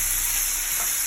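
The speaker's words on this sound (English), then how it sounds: "I'm going to throw some butter in here" Butter sizzles in a hot pan of shrimp seasoned with Old Bay, a steady bright frying hiss held close and even throughout the moment.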